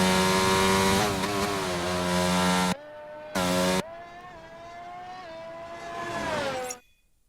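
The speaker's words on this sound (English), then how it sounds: "You see that is the McLaren of David Coulthard coming out on track here." A McLaren Formula 1 car in a racing video game set at the 2001 Brazilian Grand Prix whines at high pitch, revs rising and dropping through gear changes, then cuts out briefly, returns and fades away.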